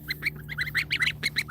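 Young bar-headed goose goslings calling close by, a rapid run of high, thin peeping calls in quick bursts with no pauses for speech.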